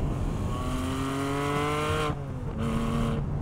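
The naturally aspirated flat-six of a Porsche Cayman GTS 4.0 revs hard and steadily climbs in pitch, then drops sharply twice during gear changes before pulling again, loud and close with no talk.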